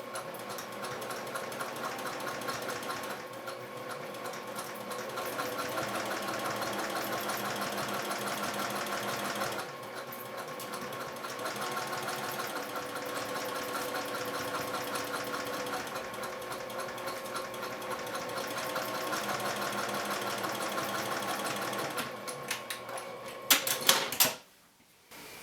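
A sewing machine runs steadily and close for about twenty seconds, top stitching and then back stitching a bag slip pocket, with a couple of short pauses and a clatter as it stops.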